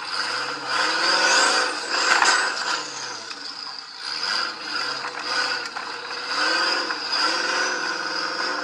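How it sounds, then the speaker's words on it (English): A turbocharged off-road race car's engine during a King of the Hammers 2012 qualifying run, with a high, steady turbo whine riding over a revving, rising and falling engine note and mechanical rattles, loud and continuous. "there's the whine of a turbocharger underneath the hood of that"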